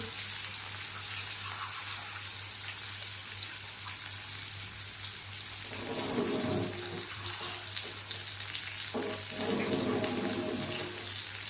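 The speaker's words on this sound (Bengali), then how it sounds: "ডালটাকে ধুয়ে নিচ্ছি।" Running tap water pours steadily into a sink as dal lentils are washed beneath it, a continuous close hiss with swishing surges of rinsing midway and near the end, no talk.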